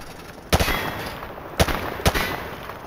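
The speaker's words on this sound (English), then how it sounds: "He sprayed bullets all over the damn place." Three separate rifle shots ring out in Call of Duty Modern Warfare 2, fired at practice range targets, each a sharp loud crack with a short decaying tail, spaced about a second apart over steady background hum.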